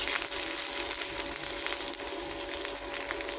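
Spices with ginger paste, Maggi masala and garam masala frying in a pan, giving a dense, steady sizzle that holds close and fairly loud throughout with no talk.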